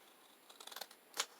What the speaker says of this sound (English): now we have to cut off the top edge